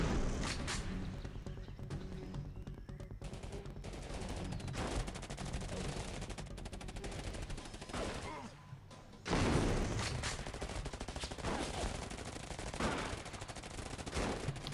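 Rapid bursts of gunfire and machine-gun fusillades ring out in a shooting game played on the GBA4iOS emulator, dense and continuous with a brief lull before the firing resumes, mixed with game sounds and some talk.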